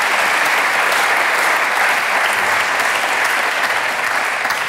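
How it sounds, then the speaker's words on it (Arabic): A Tunisian TV show studio audience applauds in a dense, even wash of clapping that carries on at a constant level with no talk over it. "تصفيق"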